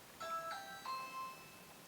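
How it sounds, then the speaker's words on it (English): A home doorbell rings in a workshop with a lathe, giving two clear electronic chime tones in quick succession, each with bright ringing overtones, heard alone and fairly faint with no talk. "that's my doorbell."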